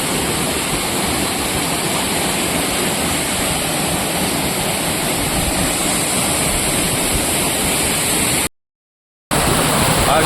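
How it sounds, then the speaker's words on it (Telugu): Bugga waterfall pours over rock steps in a constant, loud roaring rush of water, heard close and alone with no voices, broken only by one short cut near the end. "ఇది బుగ్గా వాటర్ ఫాల్."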